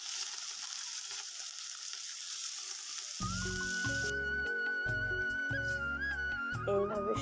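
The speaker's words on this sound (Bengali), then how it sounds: "এবারে দিয়ে দিলাম পেঁয়াজ কুচি, গাজর আর বিনসগুলো দিয়েও ভালো করে ভেজে নেব।" Chopped onion, carrot and beans hiss steadily in hot white oil in a wok, a continuous close sizzle that carries on under a loud tonal music track coming in partway through.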